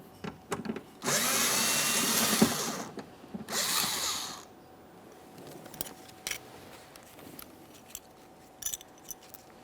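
A power driver spins out Phillips head screws from a window regulator bracket inside the rear door of a 2015–2019 Subaru Outback, two close whirring bursts of a few seconds each, followed by quiet handling clicks.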